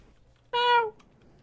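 A voice imitates a Minecraft cat meow in one short, clear, tonal mew, close and alone against near silence.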